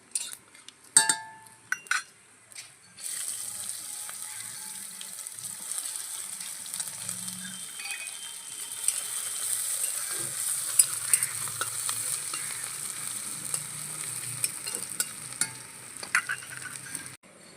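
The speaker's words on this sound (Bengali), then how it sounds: "ফোড়নটা ভাজা হয়ে গেছে," Garlic and a spice tempering of radhuni and dried red chili fry in oil in a pan, a steady close sizzle with a spatula scraping and clinking against the metal as it is stirred, a few knocks at the start.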